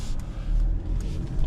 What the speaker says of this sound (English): Okay, so just driving around in the GLC.